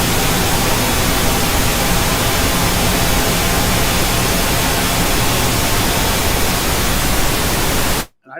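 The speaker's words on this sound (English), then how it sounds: "you can use this as a reference with the pink noise" Loud, steady broadband hiss of pink noise fills the clip evenly, then cuts off abruptly near the end.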